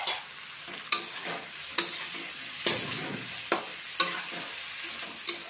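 Garlic and ginger paste sautés in a pan for a Bengali mustard egg curry: a continuous sizzle broken by sharp, regular spatula strokes roughly once a second, close and clear, with no voices.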